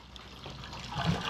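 Yeast starter poured into a homebrewed Guinness-style stout, a soft watery pouring and trickling that swells toward the end, close and fairly quiet.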